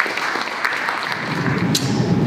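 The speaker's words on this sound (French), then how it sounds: "a big round of applause" Applause from the delegates at the closing ceremony of the Universal Postal Union's Extraordinary Congress, a steady, dense round of clapping filling a large hall for the whole stretch, with no talk over it.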